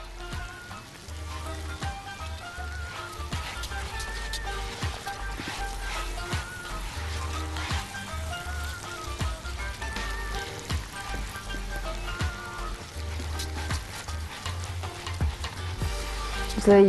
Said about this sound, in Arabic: لسان العصفور، هديله بس تشويحة بسيطة معاهم، مش تشويحة كبيرة ولا عايزاه يحمر